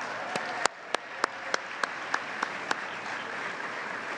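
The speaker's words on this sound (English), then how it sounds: "Let's give Bank of America and Walmart a big round of applause" Audience applause at a gala awards dinner, a dense, sustained wash of many hands clapping, with sharp, evenly spaced louder claps cutting through the crowd noise.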